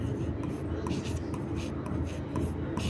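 A pen writes steadily on paper while a maths problem is worked out, making a soft, continuous scratching with short strokes and brief pauses over a low background hum.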